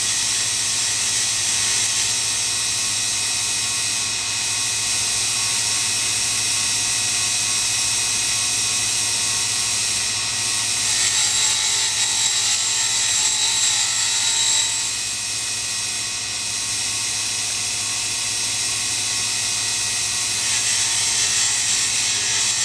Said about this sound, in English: I'm going to dress a couple thousands off the wheel.